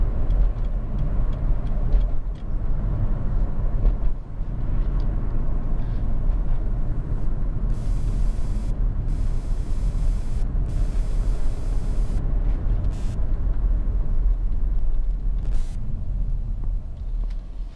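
A Lexus RX 300 3.0 SE five-door drives past a bus with a loud, steady rush of road and engine noise, broken by a few short bursts of hissing air.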